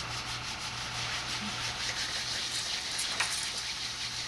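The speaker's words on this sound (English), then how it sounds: "Let's rub our hands together." Hands rubbing together, a soft steady brushing friction that continues evenly for several seconds, faint and close with no voices.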